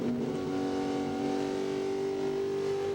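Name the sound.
racing truck engines during NASCAR truck race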